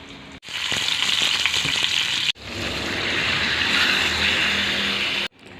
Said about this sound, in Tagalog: Igisa na po natin ang ating bawang at sibuyas. Ilagay na po natin yung marinated na pork.